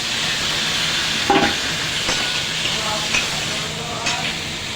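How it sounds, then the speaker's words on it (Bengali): Mutton sautéed with spices in a pan for mutton biryani: a loud, steady sizzle up close, broken by a few brief stirring knocks and scrapes. "এবার এটা আমি ভালো করে কষিয়ে নেব"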